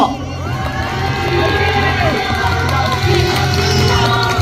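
Crowd at an outdoor candlelight protest rally cheering and applauding, a dense continuous roar of voices and claps that swells slightly and holds steady, loud and close throughout.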